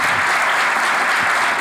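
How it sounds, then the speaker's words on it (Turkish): Dense, steady applause from an audience cheering a girls' volleyball team promoted to the first league, filling the short clip with continuous clapping and no speech over it. "Bravo. Alkış gelsin."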